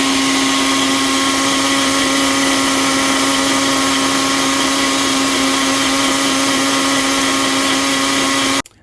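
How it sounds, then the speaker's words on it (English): A blender runs at a constant high whine, loud and close, blending almond milk, blackberries and banana into a smoothie, then cuts off abruptly at the end. "So I'm going to place this in the blender and I'm going to blend that for less than 30 seconds."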